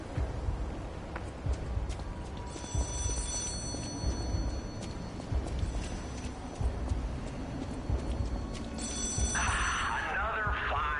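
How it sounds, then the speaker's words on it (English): A telephone rings in the dark city of Krat in the video game Lies of P, a repeated bell-like trill sounding over steady game ambience and music, with a voice speaking at points. "Oh, there's the phone."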